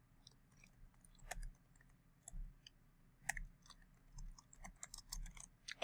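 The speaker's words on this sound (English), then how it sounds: "all you have to do with your mouse is click in the middle" A computer mouse gives quiet, sparse clicks, single and in small clusters, at an irregular pace over a faint low background hum.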